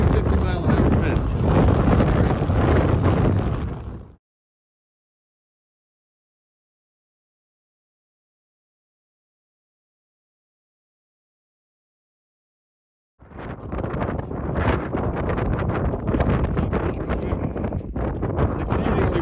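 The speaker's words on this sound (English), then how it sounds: "It's exceedingly windy." Heavy wind of 40 to 50 mph on a mountain trail buffets the microphone in loud, roaring gusts, cutting out into silence before returning just as strong.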